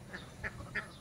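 Ducks on a duck farm in Eralibill give three short, separate quacks spaced evenly over a second, faint and somewhat distant over low rumbling background noise.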